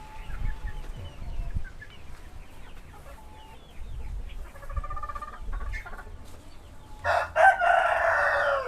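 A KUB rooster crows loudly and close near the end, after a stretch of softer clucking and farmyard fowl calls with no talk.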